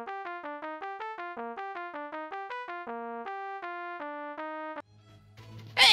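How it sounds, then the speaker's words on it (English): Synthesized melodic notes from a Velato esolang program playing a 99 Bottles of Beer tune, a quick, steady sequence of clean tones stepping up and down, then cut off by a low hum and a burst of noise near the end. "a part of the program outputting the lyrics to the song 99 Bottles of Beer on the Wall sounds like this"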